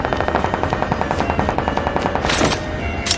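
Rapid automatic gunfire in Call of Duty battle royale, a steady stream of close, loud shots in quick rhythm over a busy game backdrop, with a brief bright burst near the end.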